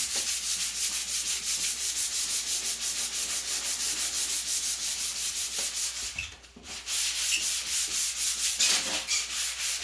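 Steady back-and-forth sanding on a 1978 Ford F100 dashboard, close and rhythmic rasping strokes that pause briefly around the middle before resuming at the same even pace.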